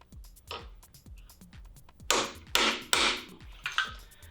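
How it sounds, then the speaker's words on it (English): A hammer strikes a center punch on metal, several sharp metallic whacks ringing out close up, a few light taps followed by three or four harder strikes with a ringing decay. "I'm just gonna take one of my center punches and line it up in this hole here."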